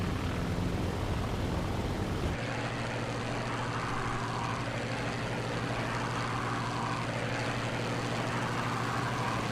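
A warbird's supercharged piston engine drones steadily in Microsoft Flight Simulator, a loud, even propeller roar that shifts tone early on and then holds constant with no voices.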